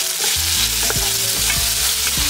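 Potatoes frying in a pan, a loud close sizzle with repeated scraping and stirring knocks as the pieces are moved around.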